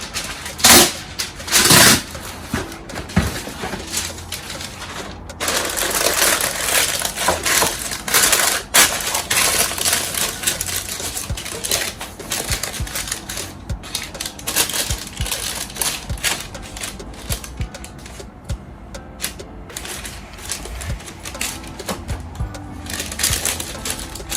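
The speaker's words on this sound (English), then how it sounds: "Then line it up with my parchment paper." Parchment paper crinkles and rustles close by as it lines a brownie pan, in bursts of crisp crackling, with a few sharper taps and scrapes in between.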